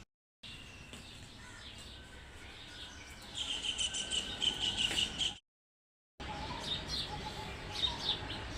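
Many birds chirping outdoors before full daybreak, a dense layer of high twittering that swells in the middle, briefly cuts out, then resumes just as busily.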